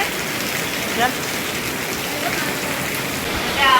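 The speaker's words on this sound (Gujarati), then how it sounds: "અત્યારે વરસાદ ચાલુ થઈ ગયો છે" Steady rain falls outdoors during the monsoon, making a dense, even hiss with a few louder spatters.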